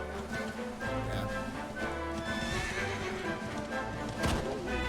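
A horse in the video game Dragon Quest XI S whinnies loudly while hooves clip-clop at a gallop, layered over game music, with the neigh rising clearly near the end.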